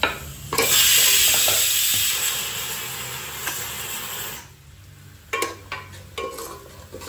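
Chopped capsicum tossed into hot ginger-garlic paste in a pan for pav bhaji sizzles loudly at first, a bright steady hiss that fades as stirring scrapes and clatters in short bursts follow.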